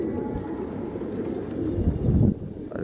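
Pigeons coo softly in a loft, low throaty murmurs under a rumbling background that swells briefly near the end.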